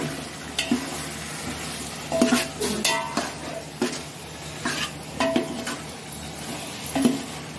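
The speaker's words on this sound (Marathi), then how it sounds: "कांदा, खोबरं, लसूण, कोथिंबीर सर्व मसाला पण टाकून आपण हे सर्व परतून घेणार आहोत." Onion, coconut, garlic, coriander and ground spices sauté in a pan with a steady sizzle, broken by repeated scraping stirs and clinks of a spoon against the metal pan every second or so; no one talks.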